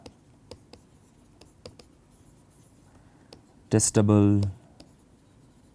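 Chalk or marker strokes during a physics lecture on time reversal land as sparse, light taps and scratches across a board, followed by a short burst of the lecturer speaking.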